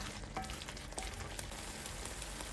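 Curry leaves fry in a pan for chutney as they are stirred, giving a soft, steady sizzle that stays faint and even throughout with no talking.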